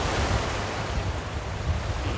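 Ocean surf rolls steadily onto the sand at a resort beach on Miami Beach, Florida: a continuous broadband wash of breaking waves with wind rumble on the microphone and no voices.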